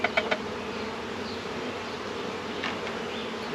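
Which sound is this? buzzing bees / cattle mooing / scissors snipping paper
buzzing bees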